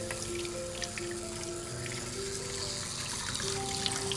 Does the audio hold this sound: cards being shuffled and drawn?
no